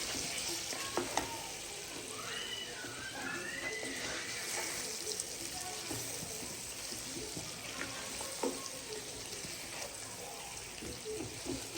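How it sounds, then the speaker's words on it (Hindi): Red chilli powder and turmeric roasting on a low flame for chicken karahi, a soft, steady crackle with scattered light clicks and occasional faint stirring, quiet and close. "अब हम इनको अच्छी तरह से भूनेंगे और फ्लेम को थोड़ा सा हल्का कर देंगे"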